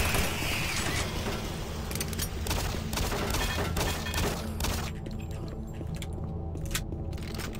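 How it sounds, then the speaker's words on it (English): Shotgun blasts and mechanical weapon handling in the Doom 3 video game, a dense stretch of firing and clanking that stays loud throughout. "it's a workable shotgun in comparison"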